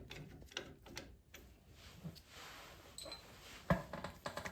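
A ratchet works a front suspension bolt on a 1967 Ford F100 during a QA1 front suspension install, giving a few scattered, fairly faint clicks with one sharper snap late, over low garage background noise.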